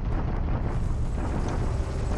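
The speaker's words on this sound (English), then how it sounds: "Bombardment at Guam." Naval bombardment of Guam in a WWII strategy game, a steady, dense roar of rumbling explosions that continues without a break and has no talking.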